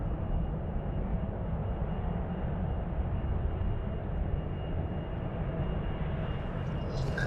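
An airliner, a Boeing 777-200 bound for Quito, departs runway 36L at Amsterdam Schiphol, producing a continuous deep, broad engine roar that holds steady at a distance.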